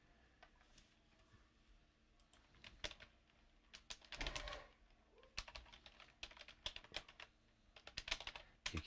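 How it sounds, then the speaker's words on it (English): A password is typed on a computer keyboard in a workshop, with scattered light key clicks that come in irregular bursts and grow denser toward the end, close but fairly quiet. "Then I gotta type in my password for my computer."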